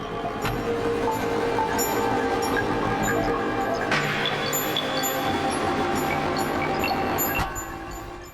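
A Neapolitan major scale layer played on a synthesizer in Ableton Live forms a dense, sustained tonal texture with shifting notes, continuous and loud throughout, with no talking.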